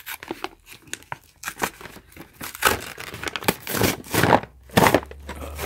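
Sealed plastic packaging of a 13-LED wireless motion sensor light bar is torn and crinkled open by hand, a close, busy run of ripping and crackling that grows louder toward the end.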